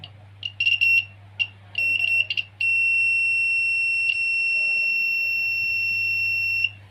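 Buzzer on a homemade AC current detector with a copper coil induction sensor, first a few short bursts, then one steady high tone held for about four seconds, close and clear over a low hum.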